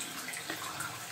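Water runs steadily from a bathroom tap. The splash is faint and constant, with no talk over it.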